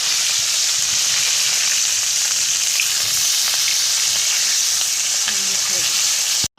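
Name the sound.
fish frying in oil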